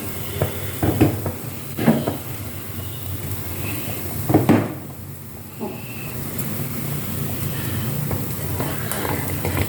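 A pot of tomato, onion and tamarind stew bubbles and sizzles steadily on the stove, with a few sharp clanks of a utensil against metal now and then.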